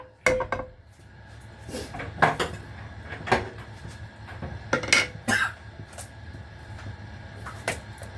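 A metal frying pan clanks and rattles as it is set on a stovetop, several knocks and scrapes over a steady low hum, with no talking.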